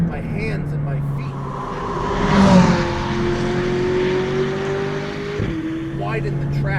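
A McLaren 600LT coupe's engine rises in pitch under hard acceleration, then drops sharply at a gear shift before climbing again, heard from inside the cabin with a person talking over it.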